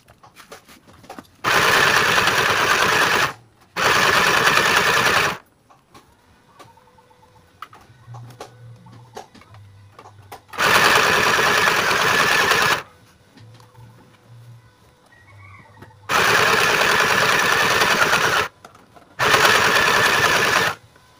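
A portable sewing machine stitches in four loud bursts of a few seconds each, with quiet pauses and faint soft handling noises between them.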